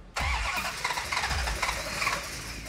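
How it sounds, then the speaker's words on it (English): A Hemi-powered car's starter cranks the engine over in a steady, rhythmic churn that keeps turning without catching, loud and close after a brief silence. "go ahead and crank it over"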